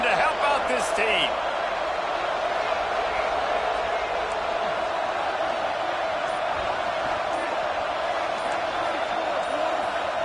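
Cougar fans roaring continuously at a college football stadium on third down, a dense, steady wall of crowd noise with scattered whistles and shouts near the start.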